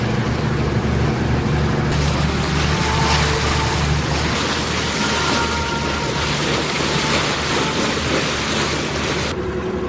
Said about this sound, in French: Perkins, notre bon moteur, est en fonction depuis ce matin